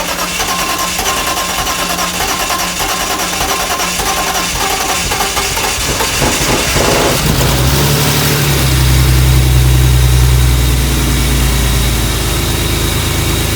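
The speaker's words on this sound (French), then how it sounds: "on va essayer de démarrer et voir si ça tourne bien." A BMW E30 engine cranks and catches, then settles into a steady, loud idle with a strong low rumble that swells slightly before holding even; no voices.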